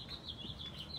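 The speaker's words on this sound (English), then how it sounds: "You can hear the birds chirping." Small birds chirp in quick, repeated high notes over a steady low background hum, moderately faint and at some distance, outside a house in Redwood Shores, California.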